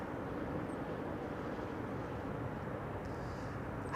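An airplane arriving at Amsterdam Schiphol Airport, a steady low broadband engine rumble held at moderate, even loudness throughout, with no one speaking over it.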